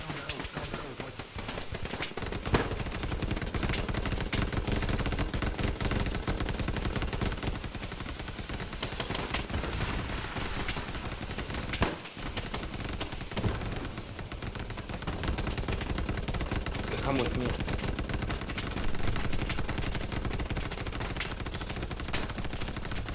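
Near-constant machine gun fire rattles through a Hell Let Loose battle, with rapid bursts and scattered gunshots layered over each other in a dense firefight, with occasional brief voices.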